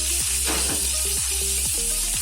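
Onions stir-fried in a pan with garlic and chili, a steady sizzle under repeated knocking and scraping of a spatula against the pan, with a low tonal hum running beneath.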